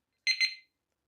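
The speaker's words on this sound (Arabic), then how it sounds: "دابا ملي كدير مره واحده بيب" A motorcycle alarm being armed gives one short, bright electronic beep that ends quickly, then silence follows. The beep is clear and close, with no talk over it.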